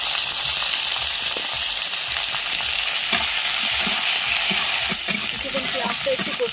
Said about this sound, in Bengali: কিছুক্ষণ পেঁয়াজটা একটু কষিয়ে নিই